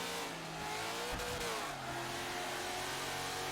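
An opponent's GT3 GT-R race car engine in Forza 7 revs and drones continuously at high pitch, a sustained, fairly loud whine that shifts slightly as it draws nearer.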